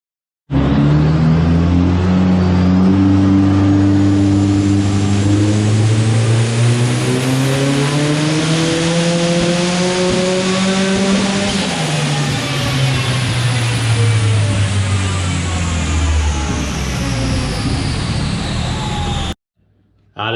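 A Ford Escort MK2 engine on a dyno roars close and loud, climbing steadily in pitch through a long sustained pull, then dropping off before cutting to near silence.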